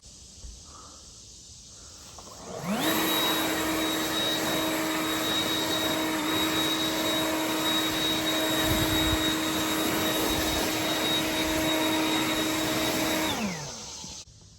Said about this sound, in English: This blower with this 4 amp lasts me the whole day.